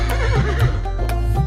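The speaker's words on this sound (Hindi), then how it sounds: "हिन हिन करता घोड़ा भागे," A horse whinnies in a nursery rhyme setting, with repeated neighing calls over a steady low backing of music, loud and close throughout the short stretch.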